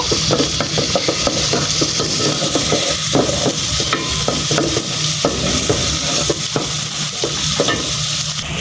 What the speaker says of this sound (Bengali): এখন এই পেঁয়াজ আর রসুনটা ভাজা ভাজা করে নেব